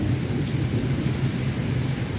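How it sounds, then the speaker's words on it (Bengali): Low rolling thunder rumbles steadily through the sky during a storm, with a soft wash of rain hiss on top, continuous and fairly loud for the whole stretch, no voices. "আকাশে ডাকছে"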